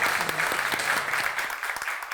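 Studio audience applause during a talk show, a steady wash of many hands clapping at moderate loudness that continues throughout without pause.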